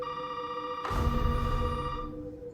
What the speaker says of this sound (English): Why is a phone ringing in there in the middle of nowhere?